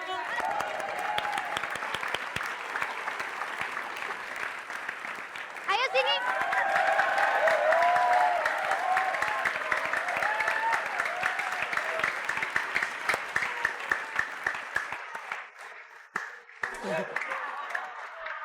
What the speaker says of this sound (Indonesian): Kalau segar tepuk tangan dong.